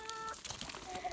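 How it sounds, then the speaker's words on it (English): A few short chicken clucks sound nearby against light background noise, brief and irregular. "Oh, yay, the chickens."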